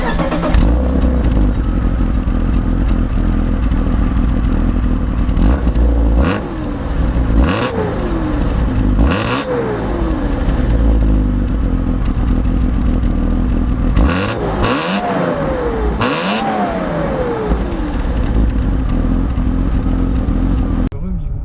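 A BMW M3 E36 engine starts and then runs close by, revving repeatedly with rising and falling sweeps over a rough idle, with occasional clatter and some talking in between.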